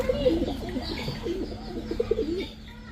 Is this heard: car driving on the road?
no